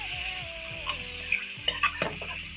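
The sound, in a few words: chicken frying in ghee in a karahi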